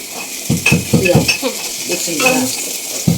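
Whole garam masala spices fry in hot oil in a home kitchen, giving a crackling sizzle broken by repeated sharp clinks and scrapes of a utensil against the pan.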